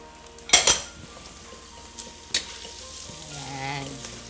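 Fried kikiam tipped into a pot with pork for lomi: a loud clattering dump at the start, then steady frying sizzle with a couple of sharp utensil clinks against the pot.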